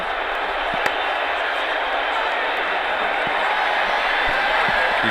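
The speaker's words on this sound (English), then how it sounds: "The crowd really enjoyed that." Crowd at a cricket match in the Ashes Cricket video game, England versus Australia, a steady broad roar of cheering throughout with a few faint sharp knocks, under commentary talk.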